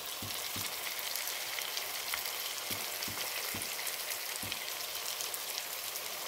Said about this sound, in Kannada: ಟೊಮೆಟೊ ಸೇರಿಸಿ ಒಂದು ಚೆಂದ ಮಿಕ್ಸ್ ಮಾಡಬೇಕು